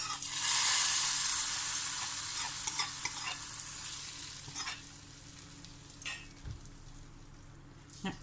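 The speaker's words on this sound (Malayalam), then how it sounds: "അപ്പം നമ്മുടെ വറവ് റെഡി ആയിട്ടുണ്ട്. ഗ്യാസ് ഓഫാക്കാം. ഇതിലേക്ക് വറുത്തിടാം." A loud sizzling hiss bursts out as hot fried tempering is poured into a coconut sardine curry, then fades into softer crackling and a few scraping clinks.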